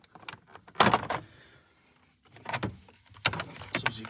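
Plastic steering column shroud on a 1999 Dodge Intrepid pried apart, several sharp close plastic clicks and snaps in short bursts separated by quiet gaps.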